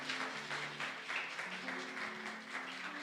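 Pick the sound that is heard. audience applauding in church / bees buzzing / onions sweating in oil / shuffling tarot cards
audience applauding in church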